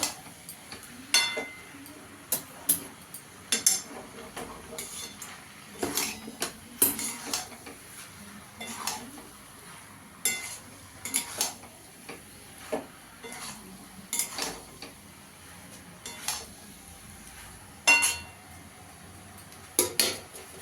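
Potatoes and prawns for an echor chingri dish are stirred together in a pan, with a utensil clinking and scraping against the metal in irregular, spaced strokes over a quiet background.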